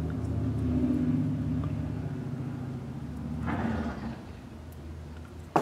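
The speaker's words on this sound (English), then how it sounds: "Sorry about the traffic noise." Busy street traffic passes outside, a steady low rumble of cars with one vehicle swelling louder midway, with no talk over it.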